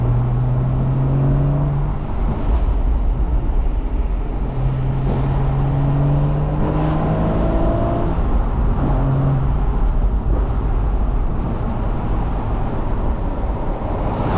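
A 2013 Porsche Boxster with a manual gearbox drives and accelerates, its engine droning steadily and close throughout, with rising and falling tones as it revs through the gears under constant road noise.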